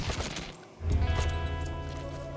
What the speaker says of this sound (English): Took him out just in time, but they definitely heard the gunfire